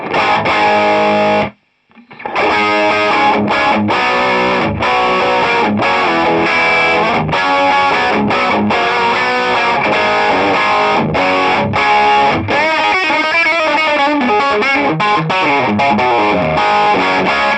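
Heavily distorted electric guitar, with the amplifier's bright switch engaged, plays loud, bright chords and riffs continuously, with one brief pause near the start.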